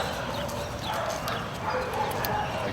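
Dogs in a shelter yard bark and yip in short irregular bursts, mid-distance, over a constant noisy background with faint clattering.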